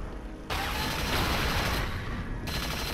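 Rapid bursts of weapon fire in the first-person shooter Unreal: Return to Na Pali, a dense continuous volley lasting a couple of seconds, loud and close with no talking.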